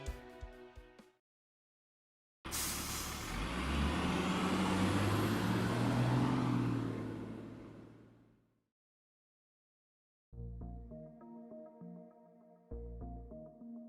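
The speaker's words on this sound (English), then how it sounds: "Feels like we've been on this bus for way too long." Heavy bus engine and road rumble swell for several seconds, then fade, framed by short bursts of game music before and after; the vehicle sound stands alone without talk.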